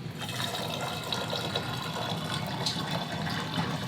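Liquid poured steadily into a jar of homemade vanilla extract, a continuous close splashing trickle without pause, no speech.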